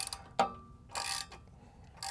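Ratchet tightening a tamper-proof nut on a bolt while fitting a boat trailer step, a sharp click near the start followed by two longer bursts of rapid ratcheting, close and fairly quiet.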